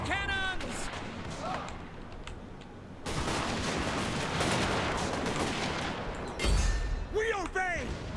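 Cannon fire in the video game Total War: Warhammer, a dense roar of booming shots and battle noise, with in-game voice lines at the start and end.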